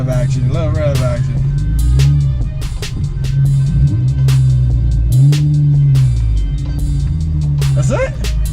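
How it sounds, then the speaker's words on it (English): A car engine is revved in short bursts after a brake caliper change, the deep exhaust note rising and falling several times close by, with people talking over it. "Little rev action."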